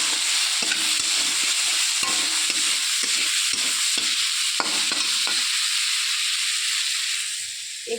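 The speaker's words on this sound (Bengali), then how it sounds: "ঢাকাটা এবার খুলেছি, আবার একটু নেড়ে চেড়ে নেব" Mango pieces cooking for aam dal hiss and sizzle steadily in a pan over lowered heat after the lid comes off. Repeated close scraping strokes of a spoon stir them, with no voices, before the sizzle eases slightly at the end.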